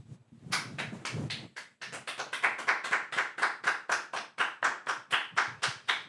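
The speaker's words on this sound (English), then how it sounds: "Sean, let's clap it up" Rhythmic hand clapping on a podcast set, a few people clapping together at first, then settling into a steady, loud beat of single claps that continues alone.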